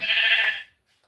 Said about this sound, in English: And I'm just slaughtering these sheep